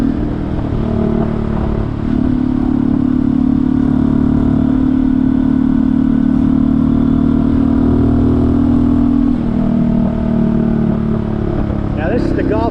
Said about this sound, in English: got that sweet sound on that exhaust. It really is pretty good sounding.